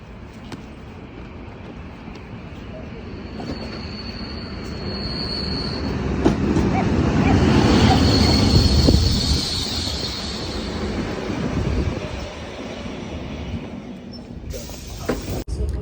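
A passenger train rumbles steadily, swelling louder and fuller for a few seconds mid-way before settling back, with faint high wheel squeals and scattered clicks throughout. No one talks.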